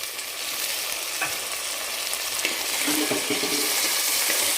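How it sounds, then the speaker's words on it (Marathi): Finely chopped country tomato sautés in hot oil over browned onion, a loud, continuous close sizzle with faint stirring beneath it. "त्याला आपण दोन मिनिट आपण तेलामध्ये परतून घेणार आहे"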